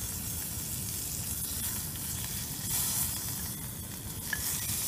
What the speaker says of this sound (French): Je vais remuer mon bacon avant qu'il ne...